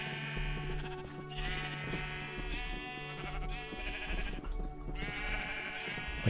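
Sheep bleat repeatedly in the video game Minecraft, with several wavering calls overlapping across a few seconds over soft, steady background music.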